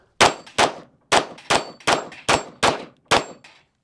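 A Springfield Echelon pistol fires eight sharp, loud shots in a quick, fairly even string, each crack ringing out with a short decaying echo.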